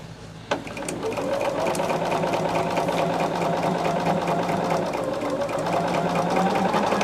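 A sewing machine stitches quilt fabric from Robert Kaufman's Silverstone line, humming in a steady rapid rhythm at an even, unhurried pace after one sharp click at the start, close and with no voices.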